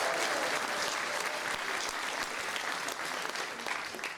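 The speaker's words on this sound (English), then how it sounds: "So a massive cheer for Tim" An audience at a Royal Institution talk on rainforest canopy research breaks into sustained, dense clapping that fades slightly toward the end.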